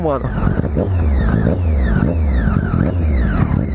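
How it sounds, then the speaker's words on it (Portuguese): A Triumph Daytona 675 R sport motorcycle from 2014 runs nearby with a steady, loud engine rumble and rising and falling revs throughout, while someone briefly speaks over it. "Olha, olha o ronquinho, agora, hein."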